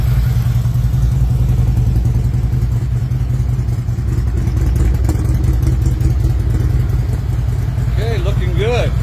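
A motorcycle engine idles steadily with its primary drive running smoothly and quietly, a dense continuous low rumble filling the whole stretch, with a brief whistly tone near the end.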